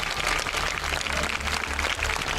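Church congregation applauding loudly during a service, a dense, continuous roar of clapping hands that fills the space without pause.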